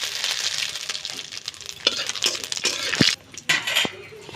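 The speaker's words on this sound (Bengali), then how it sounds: "শুকনো লঙ্কা ভেঙে আমি দিয়ে দিচ্ছি গরম তেলে।" Dried red chilies and radhuni spice frying in hot oil, a bright crackling sizzle with intermittent clinks and scrapes of a spoon against the pan.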